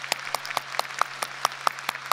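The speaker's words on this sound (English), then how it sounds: "Let's give a clap for them." Rhythmic, evenly spaced clapping at a high school graduation for the parents, each sharp clap landing about a quarter second apart over a faint steady hum, close and distinct rather than a crowd roar.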